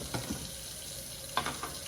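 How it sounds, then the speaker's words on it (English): Glass baby food jars being washed under a running kitchen tap, a soft steady stream of water with light clinks and splashes, faint and close. "So I'm gonna go ahead and wash these up while we wait."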